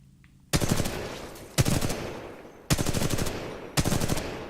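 Rifle fire in Titanfall 2, the R-201 on a practice range: four sharp bursts of rapid automatic shots, each a quick rattling string, evenly spaced and loud, with no talk.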